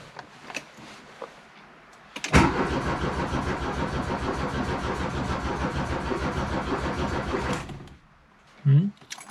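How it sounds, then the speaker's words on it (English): A VW Rabbit diesel engine cranks without glow plugs and fails to start: a loud, close, rapid rhythmic churning of the starter that runs for about five seconds and then cuts off, with a short knock afterward. "I'll try to start it without the glow plugs first."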